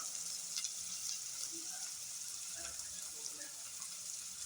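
Onions frying in a pan for a South Indian prawn gravy, a steady broad sizzle with faint stirring scrapes, moderately quiet and continuous throughout.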